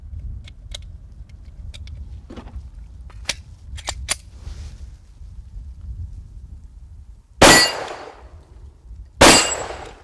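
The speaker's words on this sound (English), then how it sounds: "You can see there's quite a bit more muzzle climb and muzzle blast with the 357 SIG" A Glock 23 pistol fitted with a 357 SIG conversion barrel fires two sharp, loud gunshots about two seconds apart, following a run of small clicks and handling noises outdoors.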